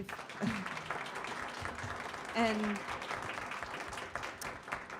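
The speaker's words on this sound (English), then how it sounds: "Round of applause for our panel, please." An audience applauds a university panel after a discussion on advancing racial equity, moderate clapping running throughout while a voice speaks briefly over it.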